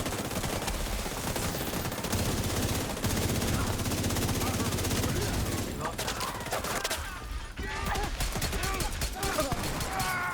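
Shotgun fire crackles in a first-person shooter video game, dense bursts of shots layered over a steady din of battle, loud and continuous with a brief dip before the firing resumes.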